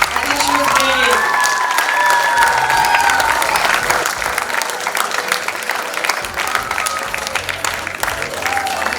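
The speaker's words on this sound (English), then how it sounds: "Let's hear a big round of applause for Mrs. Manjari Deshpande." Audience applause and some cheering for a mouth organ player at a music academy show in Pune, a loud, continuous crowd clapping that carries on for several seconds, with a few high whistles or shouts near the start.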